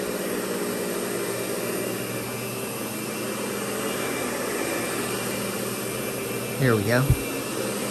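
A Lindhaus Diamante 300 vacuum cleaner runs with both motors on, giving a steady broadband whine that holds throughout at moderate level, with a brief voice and a couple of short bumps near the end.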